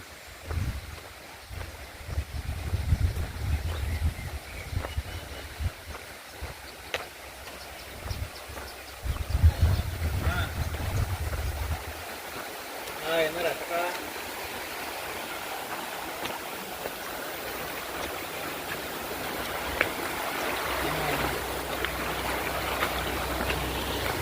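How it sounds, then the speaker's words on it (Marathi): Steady rushing of a clear flowing stream close by in Shindewadi, Gargoti, Kolhapur, a continuous broadband wash with low wind buffeting in the first half. "स्वच्छ खळणारा ओढा दुर्मिळ झाला आहे"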